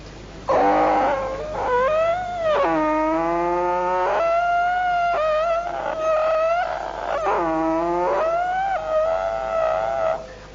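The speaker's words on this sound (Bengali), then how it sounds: "তো গরু গাড়িতে উঠার পর একটা সুন্দর শব্দ আসছিল সেই গরু গাড়ির চাকার থেকে।" Unoiled wooden wheels of a bullock cart creak in loud, close, drawn-out squeals that waver and slide up and down in pitch, repeating with brief gaps and no talking.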